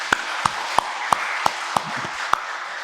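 Rhythmic applause from a church congregation at an early-morning prayer service, sharp evenly spaced claps about three per second, moderately loud in a reverberant hall, with no talking over it.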